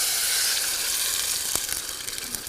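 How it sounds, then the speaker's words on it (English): Curry ingredients frying in a hot pan give a steady, moderately loud hiss of sizzling oil, with a few sharp pops and stirring clicks and no talking. "That's the sizzle you want to hear."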